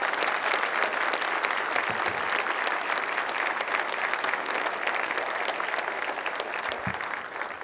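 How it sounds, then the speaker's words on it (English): An audience applauds at a Hawthorne State of the City event, a dense and steady burst of clapping that carries through at an even level for the whole span and fades slightly at the end. "Let's give this man a round of applause."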